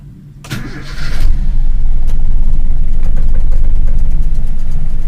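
A Toyota carburetor car engine cranks briefly, catches and starts, then settles into a steady, low, close idle that runs on without voices.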